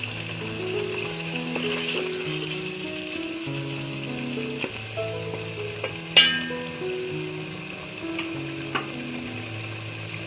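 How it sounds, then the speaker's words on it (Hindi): Mutton keema frying in a pan, a close, steady sizzle with scraping stirs and a sharp clink of the utensil partway through, and no talk over it. "अब इन दोनों चीज़ों को अच्छी तरह भूनिए।"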